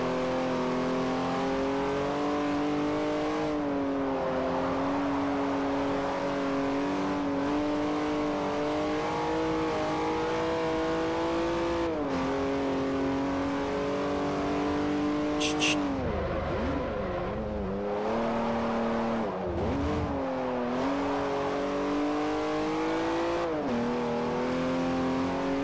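Race car in Forza Motorsport 4 screaming up through the gears on a straight, engine pitch climbing steadily with brief dips at each shift, loud and continuous with no talking.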